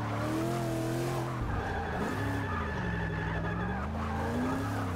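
Tires squealing as a car drifts in Forza Motorsport 6, long wavering screeches over a loud engine drone that bend up and down in pitch continuously with no talk.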